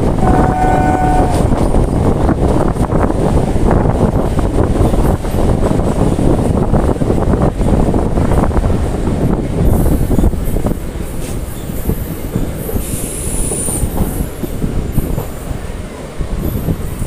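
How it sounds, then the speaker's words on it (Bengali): Passenger train pulling into Andal junction, a loud continuous rumble of wheels on rails with a brief high squeal and horn tones, easing slightly as it slows, with no voices. "আমাদের ট্রেন ওয়ারিয়া স্টেশন ছেড়ে এই মুহূর্তে এসে পৌঁছেছে অন্ডাল জংশন"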